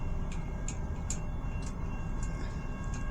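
A CN 383 southbound freight train passes a grade crossing in Richmond, Michigan, giving a steady, fairly quiet rumble with faint, regular clicking of wheels on rail joints and no talk.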